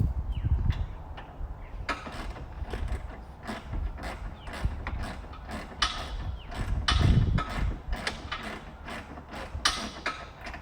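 A ratchet with an extension works a bolt loose on a 70 series LandCruiser, rapid clicking pawl bursts repeating in quick runs close by, with some clunks of the tool, no talking.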